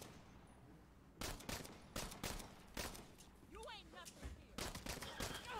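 Gunfire in the video game Saints Row comes in loud, sharp bursts of shots with brief lulls between volleys, over a steady game background, while people talk over the fight.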